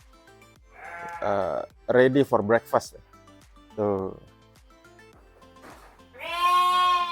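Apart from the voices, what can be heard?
sheep bleating in a farm pen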